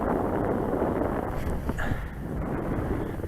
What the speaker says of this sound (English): The wind's been blowing quite nicely again now